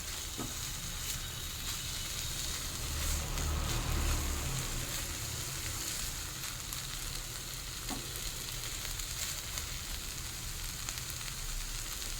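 Potatoes stirred into kulfi greens with shrimp frying in a pan: steady, dense sizzling throughout, with soft scraping and stirring movements rising slightly midway, no talk.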